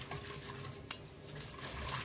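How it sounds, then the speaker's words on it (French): A utensil stirs yeast into water in a bowl, giving a steady scraping and light clinking with one sharper knock partway through, fairly close and with no voices. "Le but, c'est de faire fondre la levure dans l'eau"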